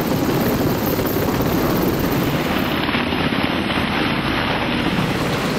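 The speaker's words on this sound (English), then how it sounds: "the helicopter can carry it to the destination ship and drop it off" Helicopter flying over the sea carrying a cargo net of supplies to a ship: a loud, continuous rotor and engine roar mixed with heavy wind buffeting, close and steady throughout.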